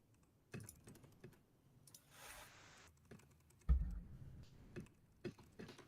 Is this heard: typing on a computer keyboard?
yes